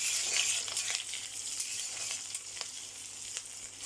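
Sweet cumin seeds fry in hot oil with a faint, steady crackling sizzle and scattered tiny pops, close but quiet, with no voices.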